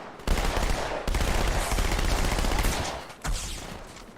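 Rapid SMG automatic fire in Halo 2 from the Master Chief Collection, loud continuous bursts with a brief break near the start and another short gap late on, no talking over it.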